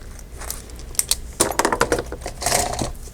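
Hole punch punching a planner dashboard, a quick run of crisp clacking snaps close up, with steady background noise beneath.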